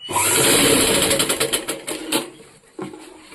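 A sewing machine stitches a short top in a fast, steady run of needle clatter that slows into separate stitches, pauses briefly, then restarts with a short final burst, close and loud.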